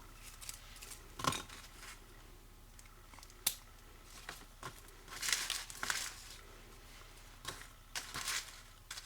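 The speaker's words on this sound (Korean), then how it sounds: "2분의 1로 잘라 주셔서" Scissors cut a sheet of paper in half while making a birthday card, with scattered crisp snips and papery crinkles spread through a quiet, close background.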